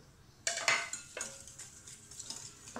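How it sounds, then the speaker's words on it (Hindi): A spoon clinks and scrapes against a bowl as salt, chili and turmeric are added to yogurt for a green-spice liver dish, with several sharp close taps followed by lighter stirring knocks. "ये मसाले हम इसमें डालेंगे।"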